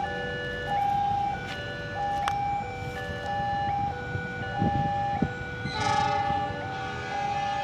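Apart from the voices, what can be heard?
railway level crossing bells ringing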